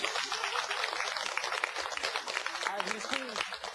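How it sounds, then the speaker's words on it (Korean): A studio audience at a lecture on fruit claps together in a dense, steady patter of applause that continues throughout at moderate loudness. "이럴 때 한번 박수 한번 쳐요 좀."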